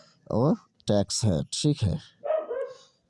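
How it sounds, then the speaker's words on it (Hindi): Dogs bark somewhere nearby under a man's steady speech in Hindi during a classroom-style lecture on the Indian economy. "कुत्ते भी भौंक रहे हैं।"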